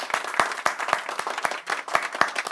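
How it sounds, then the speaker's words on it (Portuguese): Sparse, rhythmic handclaps sound close and fairly loud in a short, steady run of roughly regular beats. "uma salva de palmas"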